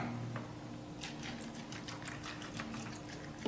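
Strong Kangen water pours steadily over cherry tomatoes in a container, a continuous splashing, bubbling trickle heard up close with a constant background hum.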